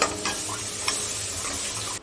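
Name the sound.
spice masala sautéing in pan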